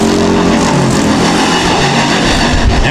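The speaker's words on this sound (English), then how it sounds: "ie DeBoer, Leon Stiller, and Scotty DeYoung, heat race number one of two for the Sportsman class here tonight at the Rapid Speedway Fostered Farms and Trucking Night." Sportsman class race cars roar together during a heat race at Rapid Speedway, a dense, loud, continuous engine drone from a close pack of cars with no pauses.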